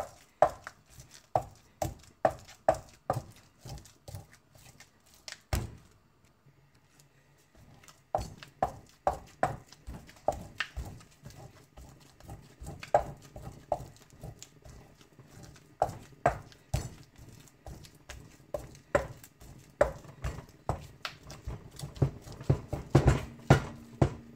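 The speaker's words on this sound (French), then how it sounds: "Je vais bien les écraser avant de rajouter la banane mûre." Plantains for foufou mashed and pounded by hand, a steady series of close, loud rhythmic thuds with a brief pause partway through, then the pounding resumes and quickens slightly toward the end.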